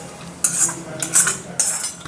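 A metal spoon scraping roasted spices and dal out of a hot pan for a soybean bhaji, three distinct scrapes in quick succession, close and clear with no speech.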